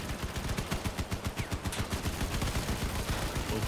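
Laser weapons mounted on a vehicle fire in Crossout, a loud, dense, rapid rhythmic stream of pulsing shots pounding steadily from start to end with no pauses.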